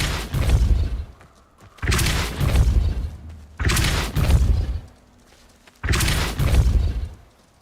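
Four heavy booming blasts of the Depulso force spell in Hogwarts Legacy, evenly spaced about two seconds apart, each a loud thudding impact that trails off before the next.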